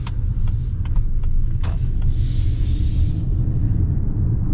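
A 2024 Lincoln Nautilus Hybrid with a CVT driving on the road, heard from inside as a steady, loud low rumble with light interior clicks and a brief soft whoosh partway through, with no talk.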